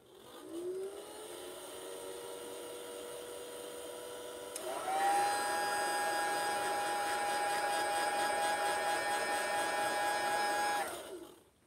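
A heat gun blowing hot air onto an action figure's neck joint, a steady whirring hum that starts, rises to a louder, higher-pitched drone midway, then cuts off near the end.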